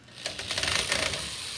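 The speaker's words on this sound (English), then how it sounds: "that is the sound of the tip of the drill coming out and not making good contact with the top of the drywall screw" A drill bit skips and chatters off the head of a drywall screw, giving a fast, rattling burst of clicks up close, with no talking.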